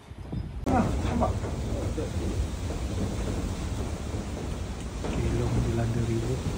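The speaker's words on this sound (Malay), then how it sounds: "Dilanda ribut." A storm rumbles over a fishing platform at sea, with heavy rain, wind and deep, rolling thunder that swells and lingers, and a faint voice heard briefly near the end.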